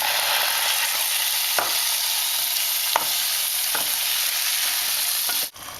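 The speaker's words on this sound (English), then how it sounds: "now what I'm going to do is add in the tomatoes" Tomatoes hitting a hot pan for lobster pasta set off a loud, continuous sizzle, broken by a few sharp clinks of utensils against the pan, with no talking.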